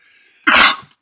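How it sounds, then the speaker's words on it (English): A single sharp human sneeze bursts out at close range, loud and brief, after near silence. "I sneezed"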